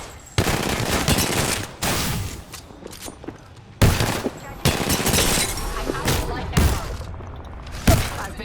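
Rapid bursts of video game gunfire, loud and close, with repeated volleys and sharp shots spread across the clip; game voice callouts and player chatter come through between the bursts.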